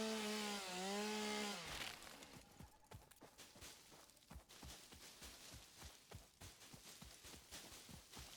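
A chainsaw in the video game Satisfactory runs with a droning, rising and falling whine for the first two seconds, followed by a rapid run of rhythmic chopping thuds as bushes are cleared.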